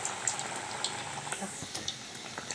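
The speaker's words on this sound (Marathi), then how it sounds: "याच्यात आता हे वडे आपण सोडून घ्यायचे अशा पद्धतीने आता यांना छान असे क्रिस्पी होईपर्यंत आपण तळून घेऊया" Spinach vadas deep-frying in hot oil until crispy, a steady close bubbling sizzle with scattered pops and crackles running throughout, no voices.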